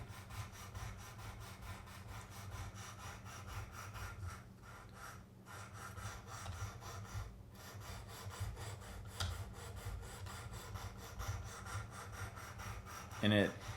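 A Buck 180 Crosslock folding knife being sharpened on a Work Sharp angle-guided rod system, a steady low rubbing and rasping of steel against the rod that carries on throughout, with a brief louder scrape near the end.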